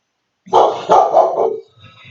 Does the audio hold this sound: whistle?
no